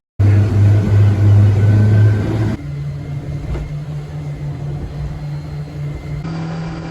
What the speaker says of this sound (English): it was clear this wasn't your grandma's speedboat. This thing could really move.